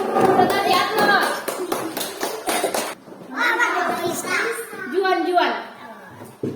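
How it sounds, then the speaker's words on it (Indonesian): Children in a classroom clap in a quick burst of applause lasting a few seconds, then a teacher and kids go on talking. "Kita kasih aplaus."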